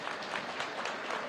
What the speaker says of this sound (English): Let's give them a giant round of applause.